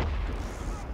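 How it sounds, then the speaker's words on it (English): A plane blows up in the video game Far Cry 5, a deep booming blast that rolls on as a low, sustained rumble for about a second, with no one speaking. "Well, that plane just blew up."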